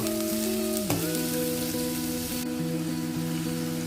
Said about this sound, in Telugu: ఉల్లిపాయ పచ్చిమిర్చి సో ఇవన్నీ కూడా వేసి బాగా ఫ్రై చేయండి